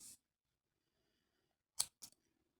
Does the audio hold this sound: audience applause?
no